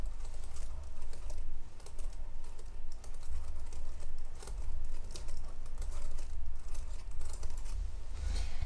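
Computer keys clatter in a steady, close stream of fast typing with brief pauses, no voices.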